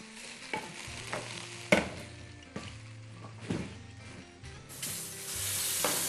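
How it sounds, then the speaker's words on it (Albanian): Tripe and sujuk with cabbage sizzle steadily in a frying pan while a spoon stirs and scrapes now and then, making soft knocks. The cooking is close up and quiet, with no talking. "E lëm të kaurdiset mirë"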